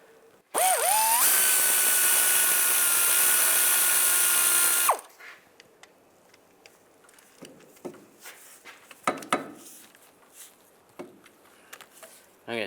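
A power tool with a 13mm socket whirs loudly and steadily for about four seconds, removing bolts during a CV axle replacement on a 1999-2005 Volkswagen Jetta. Quieter clicks and clinks of handled parts follow.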